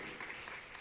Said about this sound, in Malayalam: നമുക്ക് അവരെ കൈയടിച്ച് അനുമോദിക്കാം